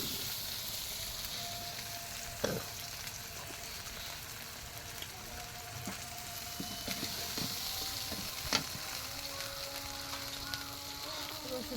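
Ginger and garlic paste fries in a pan with a faint, even sizzle, punctuated by occasional clicks and scrapes of a spoon, and a few quiet background tones.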